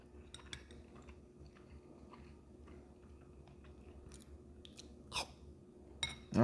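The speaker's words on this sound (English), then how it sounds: "Chewing noises." Someone chews food at lunch with soft, close crunching and biting sounds, occasional faint clinks of cutlery and a quiet background hum, no talking.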